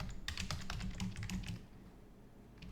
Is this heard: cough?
no